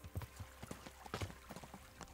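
Horse hooves from Kingdom Come: Deliverance clip-clop in a steady, even walking rhythm near a hillside camp, moderately close with no talking.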